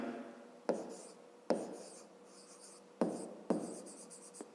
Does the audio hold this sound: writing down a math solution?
yes